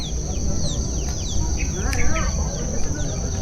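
A family of chickens out on a farm during a ginger harvest, with soft clucks and chirpy calls scattered over steady outdoor background noise and insect buzz.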